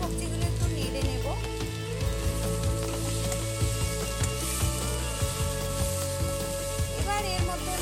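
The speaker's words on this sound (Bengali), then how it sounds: "এবার সবজিগুলো একটু নেড়ে নেব।" Vegetables frying in a pan for a Bengali chorchori dish with fish-bone pieces and peas, steady loud sizzle close by with busy clicks and scrapes of stirring throughout, no voices.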